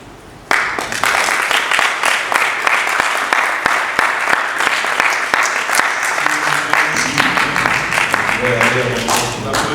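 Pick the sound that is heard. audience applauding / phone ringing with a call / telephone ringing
audience applauding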